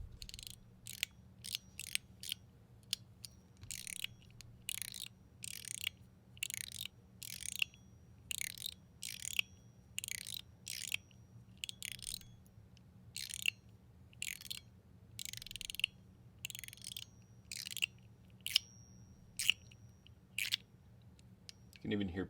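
Rapid metallic clicks and sharp pings from a YOLO Studios No Fire fidget lighter mechanism repeat steadily in quick bursts, close up, over a low background hum.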